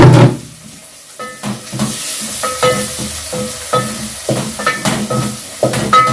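Onion and tomatoes sizzle loudly in a frying pan, a close, continuous hiss broken by repeated scraping and stirring knocks, with no talking.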